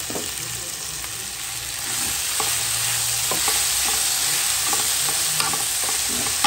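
Vegetables sizzling in hot oil after panch phoron spices go in, a steady loud hiss with occasional stirring clicks and scrapes running throughout.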